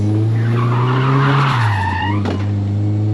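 Old front tyres on a Nissan 180SX squeal and skid loudly as they are scrubbed in, a sustained close screech over a steady engine drone that drops in pitch partway through.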